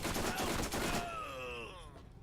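Rapid bursts of gunfire from weapons in the video game Borderlands rattle off in a dense volley for about a second, then trail into fainter echoing tones and game effects.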